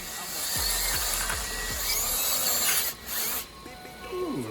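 Hand drill boring into metal with a freshly sharpened bit, preparing to tap threads in turbo work; a steady high whine with a few low thumps early on, loud and close, dipping briefly near the end.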